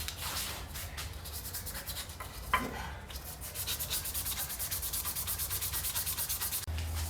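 A Damascus steel dirk blade is hand-sanded crosswise with 400 grit sandpaper, close rhythmic rasping strokes in a steady back-and-forth pattern, with a brief clunk partway through.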